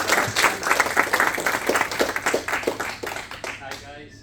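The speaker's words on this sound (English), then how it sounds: "So give him a big round of applause." Audience applause for Ian, dense steady clapping from a crowd at a lounge event, lasting about four seconds and then thinning out at the end.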